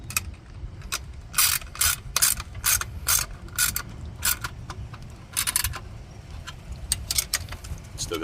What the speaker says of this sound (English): Take your 3/8" ratchet. Tighten that one.